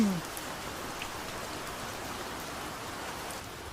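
Steady rain falls across a jungle campsite in a dense, even hiss that stays constant throughout, with no voices.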